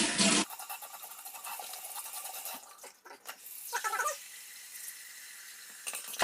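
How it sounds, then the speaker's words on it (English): Hot water runs from a tap into a bathroom sink as a steady close hiss, shifting in tone partway through as the stream is disturbed, with a short sharp burst at the start. "So I'm gonna get some hot water in my sink here"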